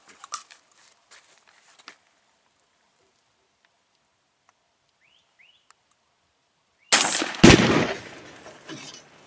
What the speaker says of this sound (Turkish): şöyle gösterelim bir atış yapalım